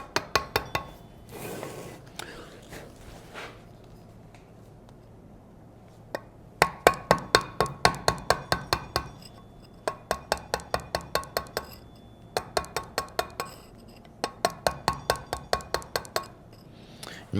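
A chisel struck against carved stone gives bursts of sharp, rapid metallic taps in quick rhythmic runs, close and crisp. Pauses separate the runs, with a little quiet speech in the gaps.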